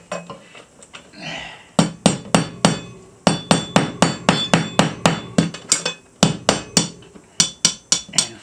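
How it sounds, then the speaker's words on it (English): A small hammer drives a molly bolt through a hole in a wall, with a steady run of about two dozen sharp metallic taps, loud and close, briefly pausing then resuming the quick rhythm. "So I'm going to take this little hammer"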